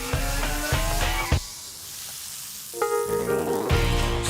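Sauce ingredients of shallots, garlic and tomatoes hit olive oil in a hot pan and sizzle loudly, with sharp bursts at the start and again near the end and a softer steady frying hiss between them.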